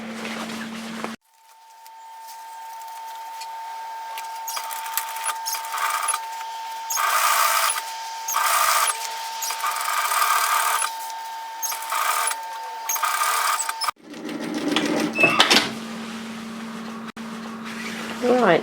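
A serger overlocks the seams of a tailored vest in sustained loud bursts, separated by brief pauses, with a steady motor hum underneath and a quieter stretch at the start and end.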